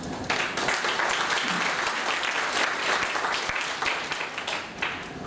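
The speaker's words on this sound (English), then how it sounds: "A round of applause, please." Dense, full applause from a health conference audience in Dhaka, loud and continuous across the room before tapering slightly at the end, with no voices over it.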